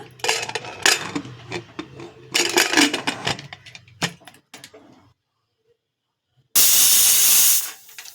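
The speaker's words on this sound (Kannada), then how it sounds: "ಈ ರೀತಿ ಮೂರು ವಿಸಿಲ್ಗಳಾಗಿದೆ" A pressure cooker of leafy greens vents a single loud, sharp hiss of steam lasting about a second, after clattering pot and utensil noises and a short quiet pause.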